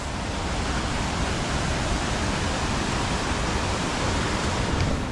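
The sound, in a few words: Napne waterfall in Maharashtra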